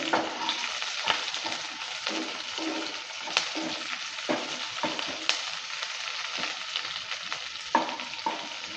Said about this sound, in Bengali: কাঁচা লঙ্কাটা দেওয়ার পর ভালো করে আবারও নেড়ে চেড়ে দিচ্ছি